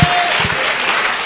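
A church congregation breaks into applause during a Sunday sermon, a brief, full wash of clapping heard throughout.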